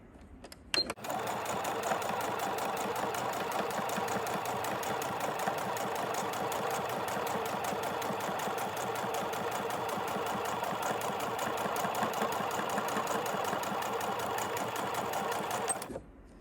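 A sewing machine stitches a zipper onto a swimsuit in one long steady run, a close, even rapid chatter that starts abruptly and stops cleanly near the end.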